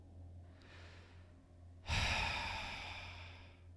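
Close breathing near a speaker in The Outer Worlds video game: a soft, faint inhale is followed by a sharp, loud exhale or gasp that tapers off gradually.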